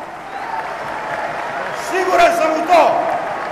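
Applause from a crowd at a Serbian political rally, a steady moderate clapping that swells in the latter half, running beneath someone speaking.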